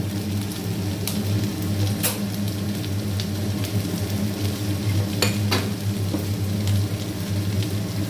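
Onions sautéing in a pan with turmeric and salt give a steady low frying hiss throughout, with a few sharp clicks of a utensil against the pan and no voices.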